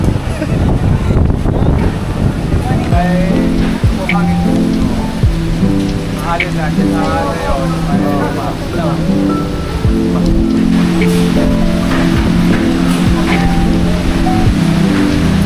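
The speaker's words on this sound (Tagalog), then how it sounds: "Sobrang lakas ng hangin, guys." Strong wind buffets the microphone on a Boracay Island beach, a loud continuous roar with surf beneath, while voices talk over it.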